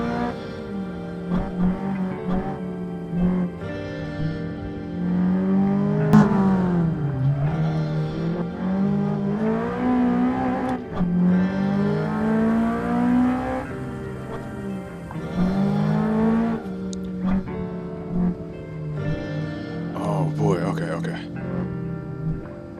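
A Toyota MR-S engine in a racing game revs high on Shomaru Pass, a steady, buzzing whine that rises and falls through the gears under continuous talk.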